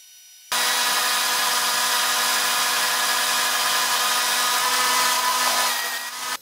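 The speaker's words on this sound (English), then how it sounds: "I am going to have to bump up the RPM just a little bit, and the carbide insert should cut a lot better at these higher speeds" A metal lathe turns a steel shaft with a carbide insert at raised spindle speed, giving a steady, loud broadband cutting hiss with a sustained tonal hum that runs unbroken for about six seconds before cutting off.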